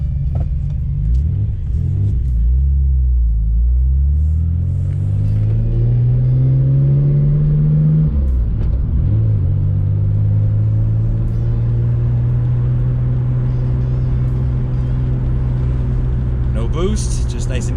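A Nissan Skyline R32 with an RB engine pulls away under gentle boost, its engine note rising steadily through the gears with a dip at a shift, a loud close rumble continuing throughout, while a person talks over it.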